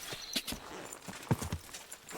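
A horse trots along a road in Kingdom Come: Deliverance II, its hooves clip-clopping in a quick, steady rhythm over a constant outdoor background, with no voices.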